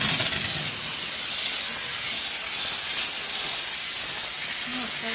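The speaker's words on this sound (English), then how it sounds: "now we'll use the dry steam" A dry steam cleaner hisses continuously while cleaning a couch, giving a loud, steady, breathy spray that runs unbroken from start to finish.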